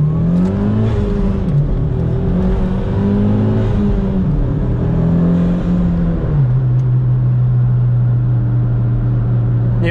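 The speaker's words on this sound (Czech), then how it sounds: "to Evo funguje skvěle v otáčkách" A Mitsubishi Lancer Evo engine held high in the revs while driving, heard from onboard: a loud, continuous engine drone whose pitch rises and falls, then settles into a steady tone for the last few seconds, with no talking.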